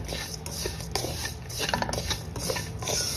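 Vermicelli roasting in a pan while being stirred, giving a steady, close scraping and light clinking of a utensil against the pan with soft rustling of dry strands, continuous throughout with no talk.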